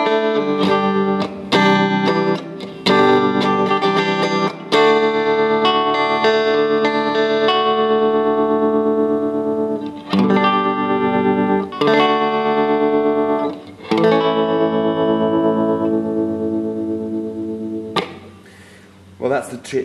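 An electric guitar plays through a 2002 Fender Twin amp with tremolo at full speed and reverb, sounding loud, close and alone as ringing chords and notes pulse quickly and trail into reverb tails, with brief gaps between phrases.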